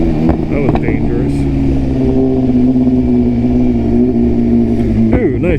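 BMW 4 Series Competition convertible accelerating past in heavy New Jersey traffic, a steady loud engine drone that rises slightly as it passes close by, with a person talking over it.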